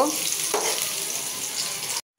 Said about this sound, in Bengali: তো পেঁয়াজটা আমি হালকা ভাজা দিয়ে নিব।